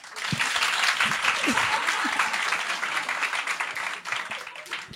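Audience applause fills the whole stretch, a dense, steady wash of many hands clapping at close range, with voices mixed faintly into the crowd noise.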